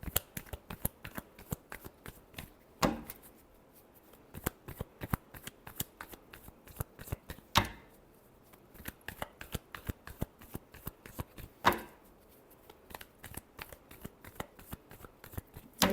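Tarot cards being shuffled by hand, a steady crisp riffling patter of many quick card flicks with a few louder slaps, close and fairly quiet, with no talking.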